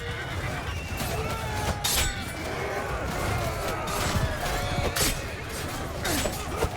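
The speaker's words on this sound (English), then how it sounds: "Get these horses out of the way." Horses neigh and whinny amid a medieval battle in the video game Mount & Blade II Bannerlord, with hooves clopping and clashing noises in a dense, continuous din; voices are faintly mixed in.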